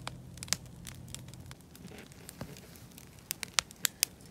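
Campfire after a meal at a Montana state park, with sharp scattered pops and crackles over a low steady background, a few louder snaps toward the end.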